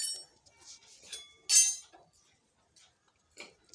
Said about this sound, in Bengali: চালটা এবার হাঁড়ির মধ্যে দিয়ে দিচ্ছি।